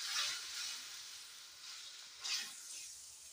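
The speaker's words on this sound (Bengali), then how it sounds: "এখন আমি অল্প জল দিয়ে দেব, দিয়ে এটাকে ভালো করে কষাবো, নাহলে মশলাটা পুড়ে যাবে।" Spice paste frying gently in a pan with a splash of water, a soft steady sizzle and hiss that swells briefly twice, close and fairly quiet with no talk.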